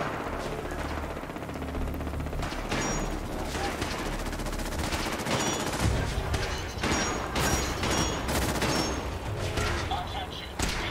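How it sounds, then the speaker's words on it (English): Dense gunfire in a massive battle in Fallout 4 rattles continuously, with overlapping machine-gun bursts, sharp shots and distant booms forming a loud, sustained wall of combat noise. "There's a massive battle going on."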